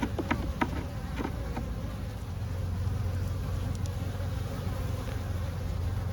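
Honey bees buzzing around an open hive during an inspection, a soft continuous drone of many wings with a few brief louder passes from bees flying close to the microphone.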